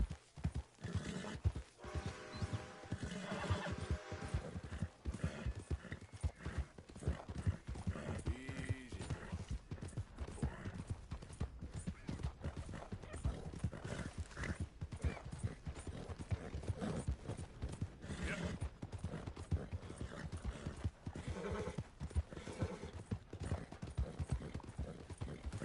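Hooves clip-clop steadily and close throughout the scene in Red Dead Redemption 2, with a horse whinnying now and then over the busy rhythm of the hoofbeats.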